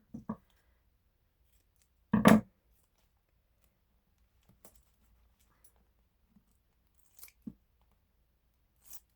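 Scissors cutting paper while making a junk journal pocket from an envelope: one firm crisp snip, followed by a few small faint clicks and snips spread across an otherwise quiet stretch.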